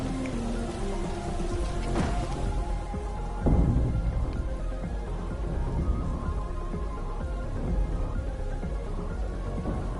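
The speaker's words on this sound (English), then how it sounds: "Oh, we got some good rain." Rain falling in the survival video game Helios Underground, a dense, steady patter of drops with a brief heavier burst partway through, continuous and fairly loud with no talking.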